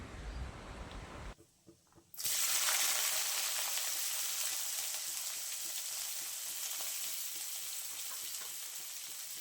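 Panch phoron spices frying in hot fish oil, a loud bright crackling sizzle that bursts in after a brief quiet gap and then holds steady, close by and alone.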